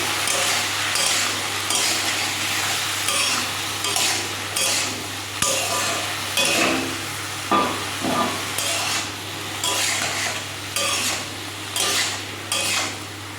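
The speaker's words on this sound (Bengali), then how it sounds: "তো লতি দিয়ে দিচ্ছি, এর মধ্যে দিয়ে দিচ্ছি নুন। এবার ভালো করে মিক্স করে নেব।" Taro stolons are stirred with salt in a frying pan, a spatula scraping and clattering in a steady repeating rhythm over a soft sizzle, close and continuous, with no one talking.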